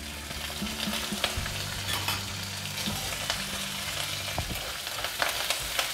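Dried red chillies and onion sizzle steadily in hot tempering oil, a continuous close frying hiss with occasional stirring clinks and scrapes, and no voices.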